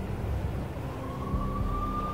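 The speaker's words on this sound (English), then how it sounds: "I could hear the sirens. Their wail was a crescendo." Police sirens wailing in a gritty New York crime scene, a steady rising tone entering midway over a dense, rumbling low-end bed of city noise.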